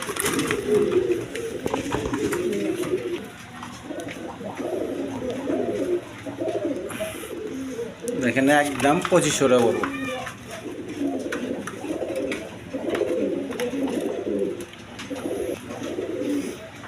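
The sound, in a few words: pigeons cooing, coloured Rasgolla breed, for sale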